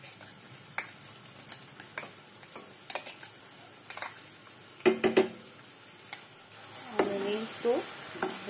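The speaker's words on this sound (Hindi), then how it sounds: "जीरा हमारा क्रैकल हो जाए उसके बाद हम इसमें ये अनियन डाल देंगे" Onions and cumin in hot oil, a faint underlying sizzle broken by repeated light clicks and spatula taps against the pan, a couple of louder scrapes midway.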